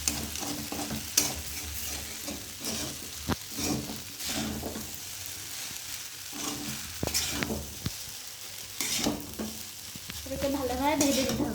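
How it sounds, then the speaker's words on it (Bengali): Chowmein is stirred and fried in a wok, with scraping, clattering strokes over a soft, constant sizzle, heard close and alone. "নাড়াতে হবে, ঠিক এরকমভাবেই নাড়াতে হবে, নাহলে কিন্তু চাউমিনটা এক জায়গায় লেগে থাকবে"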